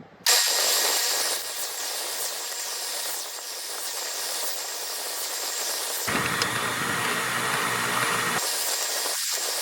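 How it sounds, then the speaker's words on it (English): A small hand sander rounding the corners of a wooden cigar box, giving a loud, steady whirring hiss that runs almost without a break and shifts slightly in tone as pressure changes. "I took this little hand sander and I rounded out the corners a little bit here"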